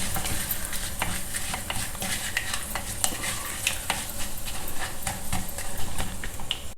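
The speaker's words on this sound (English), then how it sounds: "Wait till this appalam is well fried." Appalam (papad) bits fry in hot oil for vatha kuzhambu, a steady crackling sizzle with scattered pops and light stirring scrapes, close and continuous throughout.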